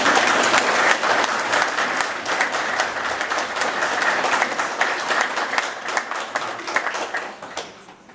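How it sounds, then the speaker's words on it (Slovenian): A village audience at a Florjanova church and fire-brigade celebration in Log claps in a dense, lively burst that stays strong before thinning and fading toward the end. "En aplavz za to."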